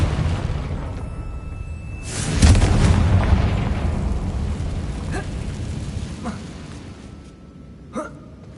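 A Confringo blasting spell goes off in Hogwarts Legacy with a sudden loud explosive boom near a damaged bridge. A rumbling tail follows, then a few smaller pops and crackles as it fades, with a voice heard around the blast.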